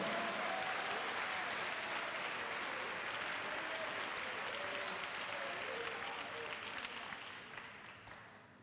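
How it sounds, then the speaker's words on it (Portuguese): Church congregation applauding, a dense steady wash of many hands clapping that carries on for several seconds before thinning and fading out toward the end. "Vamos aplaudir ao Senhor."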